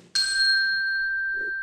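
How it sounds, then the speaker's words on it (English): A shop's front door chime at an optician's store gives a single bright electronic ding that rings on with a clear sustained tone, loud and alone. "I hear the door chime."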